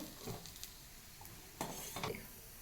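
Vermicelli is roasted in a pan, a faint, soft sizzle broken by a few light scrapes and clinks of a spoon stirring against the metal.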